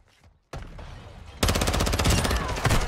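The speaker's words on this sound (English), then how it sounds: "I shoot somebody, immediately get shot in the back." First-person shooter gunfire erupts after a brief quiet: a burst of shots, then sustained rapid automatic fire, loud and dense, with overlapping bursts near the close.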